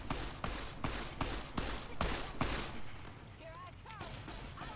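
Gunfire in Fallout: New Vegas, a steady run of evenly spaced loud shots for a few seconds, then quieter background action with faint voices or chirps, a person talking at times.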